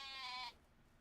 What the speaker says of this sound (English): Do we need to shear the sheep?